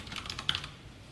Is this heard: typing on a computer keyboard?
yes